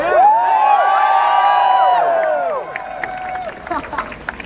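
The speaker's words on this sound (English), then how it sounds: "Another round of applause." Talk-show audience applauding and cheering after a guest's appearance, loud and sustained with excited whoops and shouting voices over the clapping, thinning toward the end.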